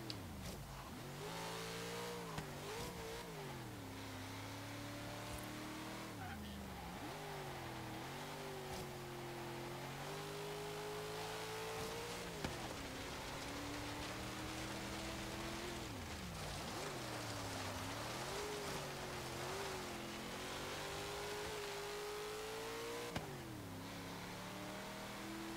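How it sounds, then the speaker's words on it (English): A 1973 AMC Gremlin X with a 7-litre V8 in Forza Horizon 3 autocross, its engine revving up and down repeatedly in rising and falling sweeps, steady and loud with no talk. "It's a big 7-litre V8 that we've seen in the likes of the Dodge Challenger."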